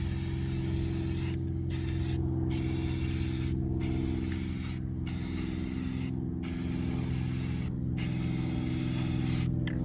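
Aerosol spray paint applied to screws, a steady hissing blast broken by several short pauses between bursts, close and loud with no talking.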